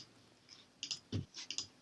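Short bursts of key clicks on a computer keyboard, a few quick taps near the end, light and close in a quiet room.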